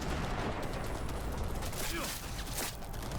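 Machine gun fire in Cyberpunk 2077 running on Nintendo Switch 2, a continuous rattle of rapid shots filling the whole stretch amid a busy firefight, with a brief dip in intensity partway through.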